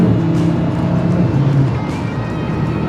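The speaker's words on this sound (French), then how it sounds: "tu peux entendre le feulement du 5 cylindres qui est magnifique" The five-cylinder engine of a Cupra Formentor VZ5 roars steadily at close range, a deep throaty growl with road noise, heard from inside the moving car on a Scottish Highlands road.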